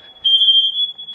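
A smoke alarm set off by home cooking of frijoles and buñuelos blares a single piercing, steady electronic tone for about a second, loud and close.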